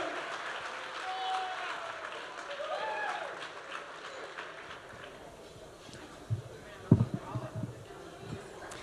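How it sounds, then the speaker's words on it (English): Wedding guests applaud a monsignor at a wedding reception, a soft spread of clapping that is faint and fairly distant, with murmured talk and a few louder knocks and thumps near the end. "How about another big round of applause for Monsignor Benwell,"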